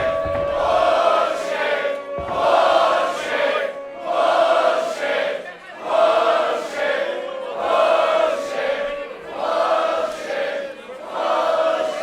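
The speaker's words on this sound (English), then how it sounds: "The crowd are loud in the pub" A loud pub crowd at an independent wrestling show roars and jeers in repeated swelling waves, a dense wall of shouting voices that rises and falls every couple of seconds throughout.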